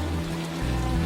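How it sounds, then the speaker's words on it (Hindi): Heavy rain pours at night onto a sheltering tree and the ground around it, a dense, steady hiss with low rumbling underneath, loud and continuous throughout with no voices. "उस रात फिर तेज बारिश शुरू हुई।"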